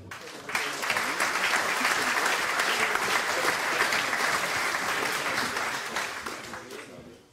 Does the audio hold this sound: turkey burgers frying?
no